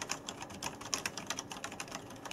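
Rapid bursts of muffled fast typing on a Logitech G910 Orion Spark mechanical keyboard, a quick flurry of soft key clicks up close.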